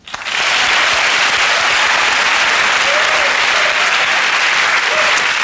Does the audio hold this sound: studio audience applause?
yes